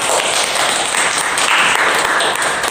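Audience applause for a teacher's presentation at an education event, a dense, steady wash of many hands clapping, fairly loud and close, holding evenly for about three seconds with no talk over it.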